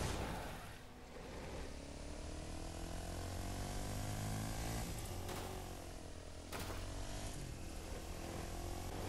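A quad bike engine in the Fortnite video game drones steadily throughout, a loud continuous buzzing roar with shifting pitch and a couple of sharp sweeps, with no talk over it.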